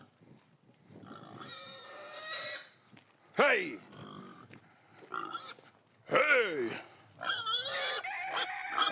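Pigs grunt and squeal in loud, bursting calls, close by, while someone shouts a couple of times over them.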